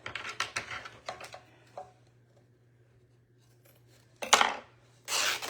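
Scissors cut through fabric for covering a primitive-style paper mache box: a quick run of crisp snips and rustles, a pause, then two louder rasping cuts close by, with no talking.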